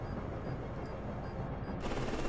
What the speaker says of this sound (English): just do a deck gun volley. Yeah, sure. Deck gun volley incoming.